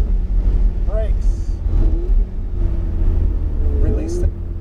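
A Ferrari 488 GTB accelerates on the Memphis International Raceway track, its engine rumbling loud and close while a voice talks over it.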